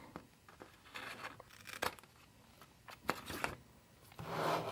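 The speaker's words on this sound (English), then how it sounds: "And then I'll just cut this part off." Scissors cut through a planner sticker sheet in a few short crisp snips and paper rustles, close and quiet, ending with a brief louder crinkle of handling.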